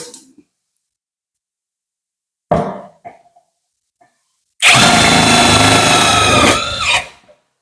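A J-LD JV88-48V impact wrench rated 350 Nm drives bolts: a few short knocks and clatters, then a loud sustained rattling hammer-whir for about two seconds that winds down, close and without talk.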